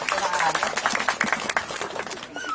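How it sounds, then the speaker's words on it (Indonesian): An audience claps along during a magic show, with a dense, fairly steady patter of many hands, moderately loud and close. A voice speaks briefly over it. "Tepuk tangan."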